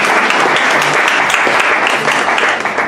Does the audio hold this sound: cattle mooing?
no